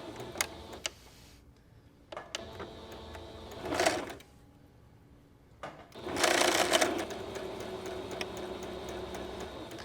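A sewing machine stitches bias tape onto a pillowcase dress in close, loud bursts of rapid mechanical whirring, broken by short pauses.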